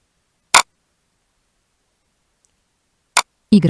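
A single Enter key pressed on a computer keyboard while browsing in Google Chrome gives a sharp, close click, followed by a second click about two and a half seconds later, with a brief burst of voice at the very end.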